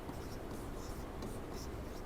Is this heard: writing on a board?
yes